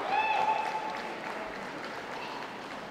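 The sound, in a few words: audience applause for dog show toy group winners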